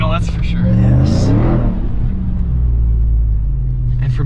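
A 2021 Ram TRX pickup truck's large engine revs and rumbles on the sand dunes of Silver Lake Off-road Park. The roar is loud and close, swells then settles into a steady low drone, with voices heard over it.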